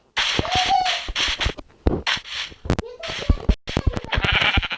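Several sheep in a Minecraft-style video game bleat in a string of loud, close, wavering calls with short gaps between them, mixed with game sound effects.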